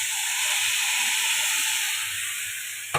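Spice masala hitting a hot pan, a loud, steady, bright hiss of sizzling that holds evenly close by, ending with a short clatter, no talking over it.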